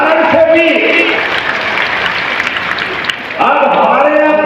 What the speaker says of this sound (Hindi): मोदी जी के लिए एक बार फिर जोरदार ताली बजाओ।